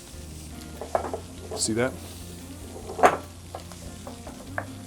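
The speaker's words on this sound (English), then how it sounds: "You want to stir in your almond flour first and let it get all kind of nice and slurry" Almond flour is stirred into a wet mixture in a bowl, giving soft scraping and sloshing sounds with a few light knocks of a utensil against the bowl. A voice speaks briefly.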